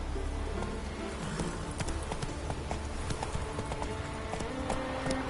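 Horse hooves clip-clopping in the video game The Witcher 3 on PS4, a steady stream of hoofbeats under a dense, busy game soundscape of ambient noise and music.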